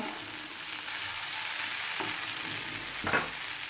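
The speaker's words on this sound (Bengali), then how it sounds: "এর মধ্যে আমি জল দিয়ে দিচ্ছি" Water hits a hot pan of turnip and potato curry with tomatoes, raising a steady broad sizzle that hisses louder in a brief burst near the end, close and alone with no voices.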